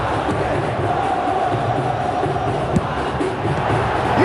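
A football stadium crowd at an Indonesia national team match against FC Volendam keeps up a loud, steady roar of cheering and chanting, broad and distant-sounding, with no clear individual voices.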